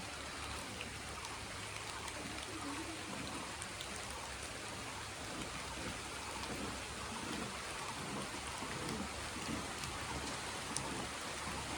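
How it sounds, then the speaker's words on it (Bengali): Sudden rain pours steadily outdoors in a rural spot with cattle nearby, a dense, even wash of drops hitting surfaces, loud and unbroken throughout with no voices. "কি অবস্থা, হঠাৎ করে বৃষ্টি।"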